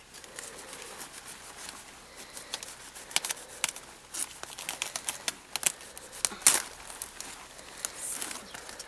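A knife cuts through a cauliflower in a Belarus village kitchen, giving faint irregular crisp snaps and ticks that come in quick clusters over a quiet background.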